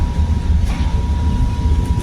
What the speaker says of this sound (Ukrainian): А ми зараз у трамвайчик поліземо.